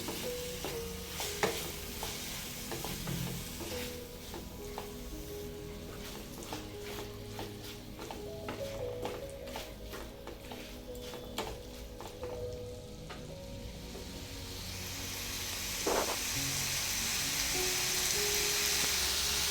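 Ivy gourd coated in masala frying in a pan, a low continuous sizzle with scattered light clicks and scrapes of a spatula, growing a little louder and hissier toward the end.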